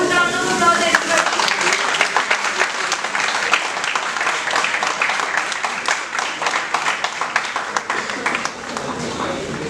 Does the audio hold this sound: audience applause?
yes